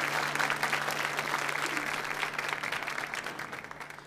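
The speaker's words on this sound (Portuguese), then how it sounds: "Mais uma salva de palmas ao nosso irmão jovens." Steady applause from a crowd of clapping hands fills the room, dense and sustained, with a low hum underneath.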